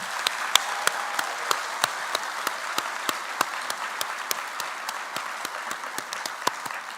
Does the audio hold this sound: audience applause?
yes